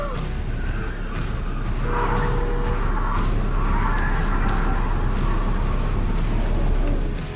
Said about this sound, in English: The red light runner barely managed to swerve around the turning vehicle as they barreled across the intersection at high speed.